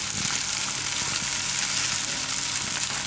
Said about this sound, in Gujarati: તો ડુંગળી આપણે થોડીક વાર આ રીતે પકાવી લીધી.